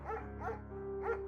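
Mayhem, a shepherd dog in the game Firewatch, gives three short, close barks or yips in quick succession, each a bright, voiced burst with brief pauses between and no talk.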